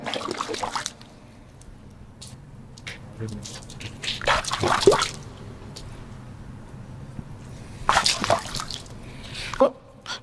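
Water is poured and splashed in short bursts during ritual ablution (wudu), with trickles and drips between the pours and someone talking over the sounds.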